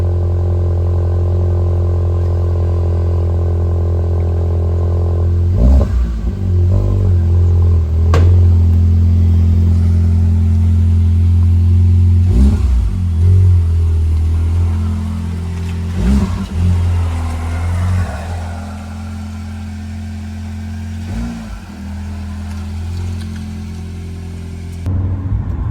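A Mk8 car engine with a newly installed aftermarket exhaust idles with a deep, steady rumble, punctuated by several sharp revs that swell loudly and fall back, close to the listener throughout.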